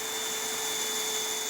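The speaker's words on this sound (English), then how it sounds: "I can scoot this out of the way and completely drill out those remaining holes." A drill bores out holes in a plastic truck bed rail on a 2023 pickup. A steady, whining hum holds evenly throughout the short burst.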